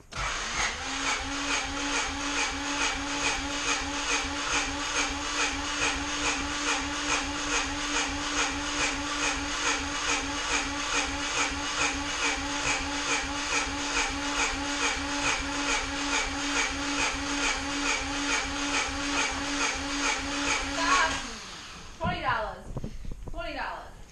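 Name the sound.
Honda CRX starter cranking engine during compression test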